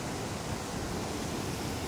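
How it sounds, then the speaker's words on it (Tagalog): A steady, broad roar of a strong, flood-swollen river current rushing fills the clip, constant and fairly loud with no voices. "Malakas yung alon ng agos ng tubig guys."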